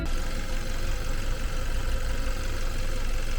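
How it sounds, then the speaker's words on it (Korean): A Hyundai YF Sonata F20 turbo GDI engine idles with the hood open, a steady, even mid-low hum with a faint ticking texture running continuously at close range, no talking. "엔진 소리도 좋고 깨끗하네요."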